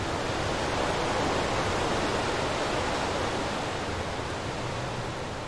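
A steady, full-bodied rush of falling water from a waterfall in the sewers of the video game Warhammer: Chaosbane. It holds an even roar for the whole stretch, with no voices over it.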